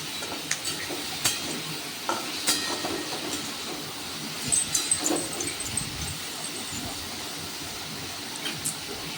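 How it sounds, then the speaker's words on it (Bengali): Bitter gourd slices frying in oil in a covered pan give a steady, soft sizzling hiss that runs throughout, with scattered faint crackles and clicks. "এইভাবে ঢাকা দিয়ে দিয়ে ভেজে নেব তাহলে সিদ্ধও হয়ে যাবে আর ভাজাও হয়ে যাবে"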